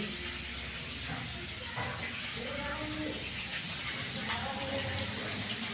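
Fish frying in hot oil, a steady close hiss and sizzle running throughout, with faint background sounds.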